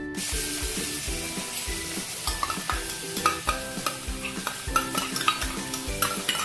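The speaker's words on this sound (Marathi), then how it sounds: "हे जे आलं, लसूण आणि मिरची जी आपण बारीक चॉप करून घेतले ते तेलात टाकूया।" Chopped ginger, garlic and chilli hitting hot oil over a high flame for Manchow soup, a loud steady sizzle with repeated stirring scrapes and clinks of a spoon in the pan, close up and with no talking.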